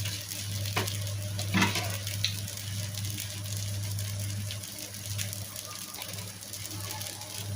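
A mixture cooking in a pan being stirred, a soft, steady sizzle with a couple of scraping strokes early on, faint and continuous, with a quiet voice in the background.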